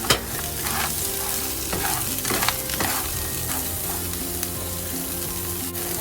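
Tomatoes tossed into a hot pan of steamed broccoli and stir-fried, with a loud, steady sizzle and repeated scraping stirs close up, no voices.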